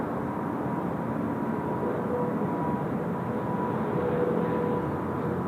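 Airplane taking off at Seoul Incheon Airport, a steady broad jet roar heard from a distance, constant and moderately loud with no voices over it.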